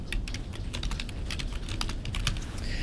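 Someone types on a computer keyboard while entering field names into a database table, producing quick irregular bursts of sharp key clicks, close and moderately loud, with brief pauses between runs of keystrokes.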